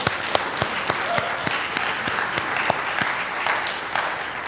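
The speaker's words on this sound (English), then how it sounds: "And can we just give a round of applause?" Audience applause at the close of a talk, a steady moderate clapping with individual sharp hand claps standing out throughout, some voices mixed in.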